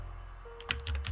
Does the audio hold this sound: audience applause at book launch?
no